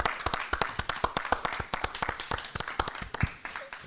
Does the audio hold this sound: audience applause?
yes